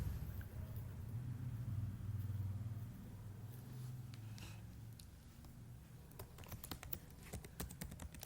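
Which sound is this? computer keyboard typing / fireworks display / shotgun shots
computer keyboard typing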